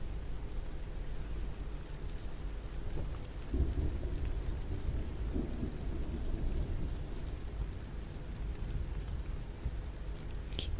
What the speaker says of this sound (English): You might be talking about the thunder rain noise.